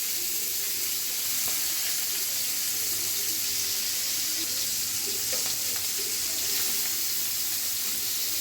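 Shrimp coated in salt and turmeric sizzle steadily in a pan of hot oil, a continuous close frying hiss that stays even for the whole stretch with no talk over it.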